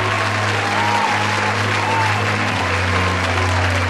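Sustained applause from a crowd in the game Honkai: Star Rail, steady and dense throughout, with a low musical hum underneath.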